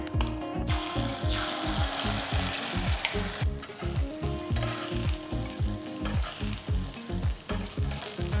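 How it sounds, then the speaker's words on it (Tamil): Beaten egg poured into hot oil for an omelette, crackling and sizzling loudly up close, with rhythmic scraping or tapping strokes running through the whole stretch and no voices. "இப்போ நான் வந்து இந்த அடித்த முட்டையை இதில் ஊற்றிடலாம்"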